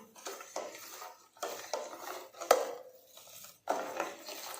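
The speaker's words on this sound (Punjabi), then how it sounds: "ਆਪਾਂ ਦੁੱਧ ਨੂੰ ਹਿਲਾਉਂਦੇ ਰਹਾਂਗੇ" A spoon stirs sweetened milk in a pot while making milk badam. It scrapes and clinks softly against the pot in irregular strokes, and there is a sharper knock partway through.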